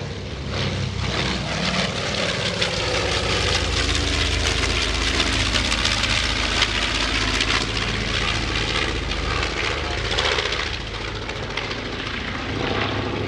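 A B-25 Mitchell bomber roars past at an airshow, its deep droning propeller engines loud and sustained throughout, swelling and fading slightly as it passes.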